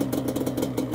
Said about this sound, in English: Looks like I got a small exhaust leak in here